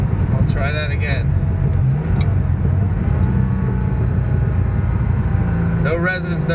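Porsche 911 Turbo 930 with a dual-outlet Maxflo muffler, its engine and boosted air intake droning steadily under intermittent talking at the start and end.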